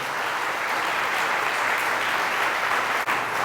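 A church congregation at a Catholic Spanish-language service gives loud, sustained applause, a dense continuous roar of clapping heard close and alone, with one brief dip near the end.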